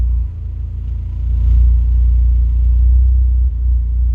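Mitsubishi DSM car engine idling while parked, a loud, close, steady low rumble that swells slightly midway, with no voices.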